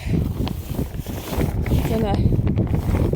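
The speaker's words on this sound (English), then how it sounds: "it's extraordinarily windy" Strong wind buffets the microphone outdoors on a farm, a loud, rumbling and gusting roar, with a voice faintly underneath.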